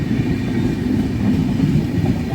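The 22361 New Delhi Amrit Bharat Express hauled by a WAP 7 electric locomotive, a dense, loud continuous rumble of rolling coaches with a faint clatter of wheels on track, heard steadily with no voices.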